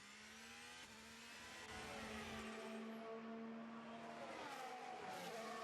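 A Formula 1 car at the Saudi Arabian Grand Prix short-shifts up through second, third and fourth gear, its high engine whine stepping up in pitch with each change, heard faintly from a distance.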